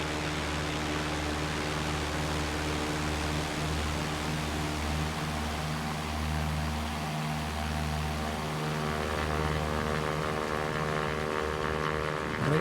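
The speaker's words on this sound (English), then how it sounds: "Nice sounds. Probably one of the best default airplanes that you can get." A King Cub propeller airplane in a flight simulator video game drones steadily in flight, a constant engine hum with a loud, even propeller whir that holds the same pitch from start to finish.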